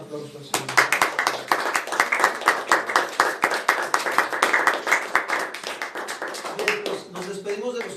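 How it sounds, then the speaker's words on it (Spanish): A church congregation at a men's Sunday meeting applauding, with steady rapid clapping from many hands that fades after several seconds and mixes with voices. "¿Cuántos le pueden dar un aplauso al Señor?"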